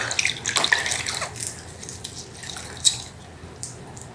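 Water splashing and trickling as a newborn is rinsed during a bath, with irregular close splashes and drips rising and falling, one sharper splash near the end, and no talking.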